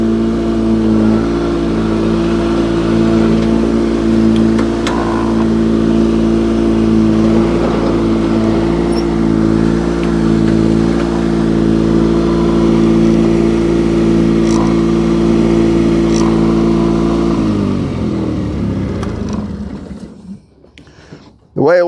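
A Honda HT3813 lawn tractor engine pulling hard in second gear, a loud steady droning hum held for most of the clip before winding down and cutting off near the end.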